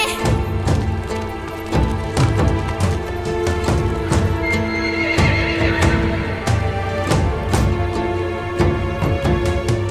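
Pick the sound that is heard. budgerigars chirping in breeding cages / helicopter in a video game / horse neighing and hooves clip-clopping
horse neighing and hooves clip-clopping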